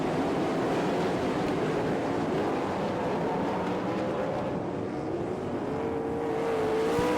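Sprint race cars at the All Star Circuit of Champions in Florence, KY roar together as they pick up throttle off turn four at the green flag, a dense, loud engine rumble with rising pitch and no voices.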